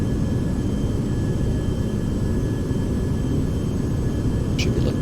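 Carenado Premier 1A jet engines in the Prepar3d flight simulator throttle back, producing a steady, loud, broadband rumble with a faint high whine that holds evenly throughout.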